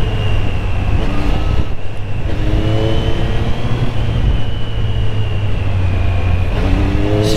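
Triumph Street Triple 765 R 2024 motorcycle engine running steadily with a sustained drone and rising revs, close and loud throughout, no talking.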